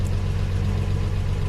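A Plymouth Valiant engine idles just after a cold start, a loud, close, steady low rumble with an even throbbing pulse and no other sounds.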